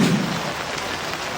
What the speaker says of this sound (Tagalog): Ang malakas na ulan na sinabayan ng bugso ng hangin